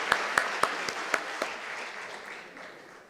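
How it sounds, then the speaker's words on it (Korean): A congregation claps together in a large Korean church hall during a Sunday evening service, a steady wash of applause with a few sharp louder claps early on, fading slightly toward the end. "우리 다시 한번 하나님께 영광의 박수 올려드리겠습니다."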